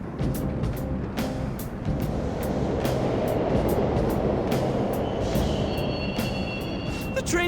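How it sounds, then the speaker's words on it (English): Subway trains run through a station in Persona 5, a loud continuous rumble and rattle with sharp clacks and a rising metallic squeal toward the end. "The trains are totally running!"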